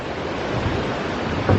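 Steady rushing water of a waterfall pouring beneath an old, worn steel-girder bridge on the road to Bovilla Lake in Albania, a broad, continuous roar heard close up with no voices.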